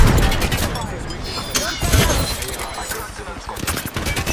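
Gunfire in Apex Legends with Loba, bursts and shots in rapid, dense fire with explosions mixed in, loud and sustained across the whole stretch.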